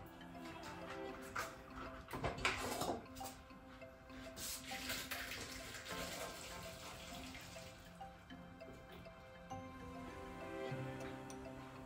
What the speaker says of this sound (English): we want to drain the pasta using a colander or a strainer